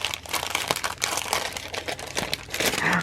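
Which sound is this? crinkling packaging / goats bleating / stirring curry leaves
crinkling packaging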